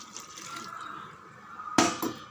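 Water poured into a blender jar while cooking mango rasam, a low steady trickle followed by a brief louder splash near the end, close by.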